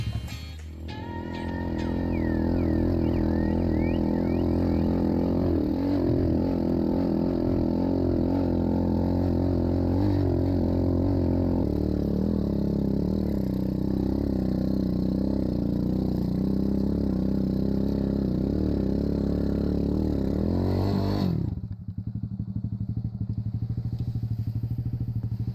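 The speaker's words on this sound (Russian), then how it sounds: "этот мотоцикл едет только зацепом, то есть мощности у него не хватает" A Jumper FX125 trail motorcycle labours through slippery, muddy forest after melting snow, its small engine revving loudly and unevenly for about twenty seconds before cutting off abruptly to a low idle.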